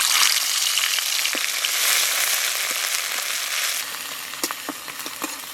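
Garlic paste dropped into hot oil with whole garam masala, frying with a loud, steady sizzle that thins out later into scattered crackles and pops.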